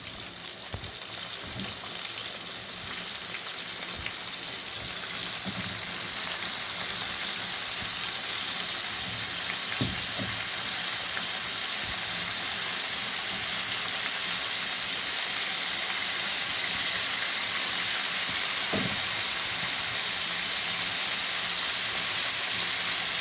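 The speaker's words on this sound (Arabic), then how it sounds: "ونزلنا بالكاليماري اهو في الزيت" Floured calamari pieces deep-fry in hot oil, giving a steady, dense sizzle and crackle that holds for over twenty seconds with a few brief louder pops, close and continuous, no voices.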